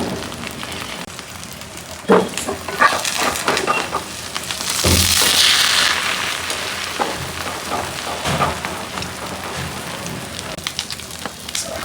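An egg fries in a pan under a lid, with a steady crackling sizzle and scattered pops running throughout, close and fairly loud, no talking.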